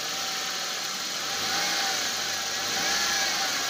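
Engine of a hard-starting Toyota Corolla running steadily with a slight rise toward the end, a continuous close mechanical drone with no voices.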